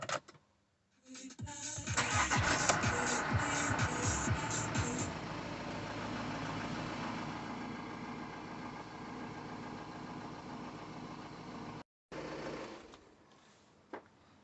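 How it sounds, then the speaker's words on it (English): A VW Amarok 2.0 TDI diesel engine cranks, catches and settles into a steady close idle for several seconds, then cuts out briefly before a short restart and stop. "Now we're going to start the engine up, let it run for 30 seconds."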